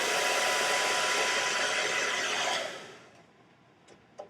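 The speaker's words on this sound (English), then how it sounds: "you can also take a blow dryer on cool and blow the curl until it's cool" A blow dryer on its cool setting blows steadily on a synthetic hair curl, a loud, even rushing whoosh up close that cuts off abruptly, leaving quiet room tone and a couple of small clicks.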